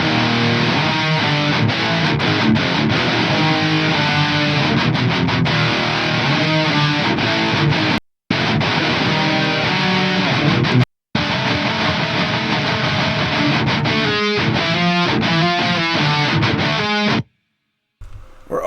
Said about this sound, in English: Today we're checking out Aurora DSP's Laboga chainsaw distortion.